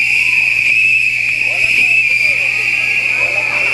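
A whistle is blown as a signal during a group rehearsal, giving one loud, steady, high-pitched blast that holds unbroken from start to finish over a faint background murmur.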